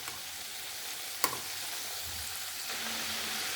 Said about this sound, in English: So I've been deep frying this for about 15 minutes or more now